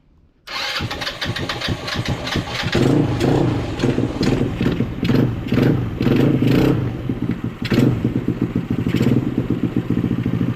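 A scooter engine cranks and catches, then runs at a rough, uneven idle with rapid pulsing putter and occasional revs, close and loud.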